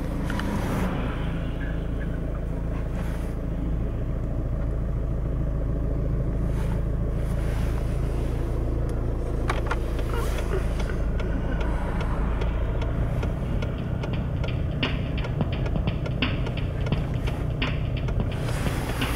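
A VW Golf 5 creeps along in first gear at idle without the accelerator pressed, giving a steady, loud low engine and road drone with wind buffeting throughout.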